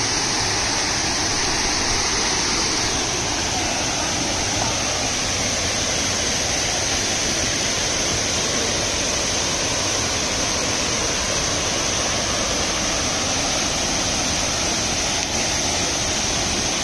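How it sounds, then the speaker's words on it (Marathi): Savadav waterfall near Kankavli roars as a dense, unbroken wash of falling water, loud and close, with no pauses or talk over it. "हा खूप मस्त धबधबा आहे."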